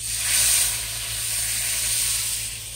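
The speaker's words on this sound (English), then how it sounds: "I'm just going to rinse that pan just a little" Water sizzles and hisses against a hot pan just used for cooking a pound of mushrooms while it is rinsed, a steady close steam hiss lasting a few seconds with no talk.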